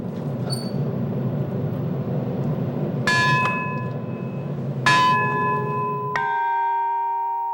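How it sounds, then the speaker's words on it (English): A bronze bell at a bell foundry is struck three times, and each strike leaves a bright, ringing tone that lingers. A low rumbling background noise fades away before the third strike. "what we hear when a bell is struck is a particular combination of pure tones"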